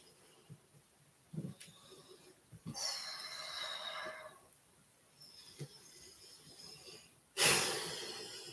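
Deep breathing during yoga wrist stretches, several slow, airy inhales and exhales close to the microphone with quiet gaps between them, ending in a sharp, loud breath.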